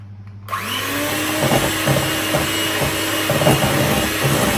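An electric hand mixer whirs steadily through chocolate sponge muffin batter from a mix, starting abruptly and running loud and close with a constant motor drone and faint rattles.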